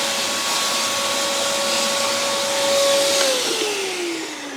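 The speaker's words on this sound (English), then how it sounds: "we'll just get the old Hoover out quickly" An old Hoover vacuum cleaner running close by with a steady whining hum, its pitch dropping near the end as the motor load changes, with no talk over it.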